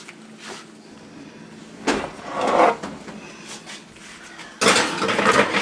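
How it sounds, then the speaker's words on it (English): A cupcake pan goes into a home kitchen oven: a few metallic clanks and thuds of the pan sliding onto the rack, then a louder rattling bang near the end, with no voices. "we're going to put these in the oven right now"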